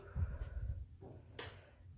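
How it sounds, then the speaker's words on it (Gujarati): A metal spoon adds chili powder to a pan of radish and millet dhokli, giving one brief clink against the vessel over a low, steady kitchen rumble. "હું ત્રણ ચમચી લઉં છું મરચું"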